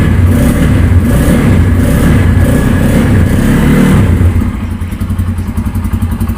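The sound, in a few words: Bajaj Pulsar N250 motorcycle engine starting and exhaust sound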